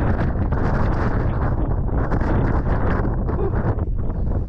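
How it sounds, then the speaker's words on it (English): Strong wind on a hilltop above a village buffets the microphone with loud, continuous rumbling gusts and no speech. "that wind's bitter now"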